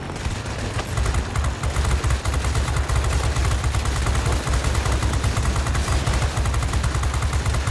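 Warplane machine guns fire in World of Warplanes combat against a Stuka, a loud, continuous rapid rattle of gunfire that runs unbroken after a short lead-in.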